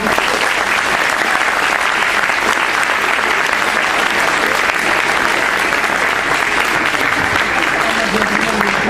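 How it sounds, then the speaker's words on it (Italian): Audience at a friendship gathering's award ceremony applauding, loud dense clapping that stays steady and close for the whole stretch, with a faint voice underneath. "Glielo dato un bel applauso di nuovo."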